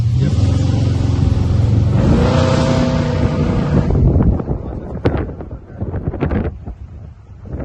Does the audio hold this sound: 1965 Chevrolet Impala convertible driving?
yes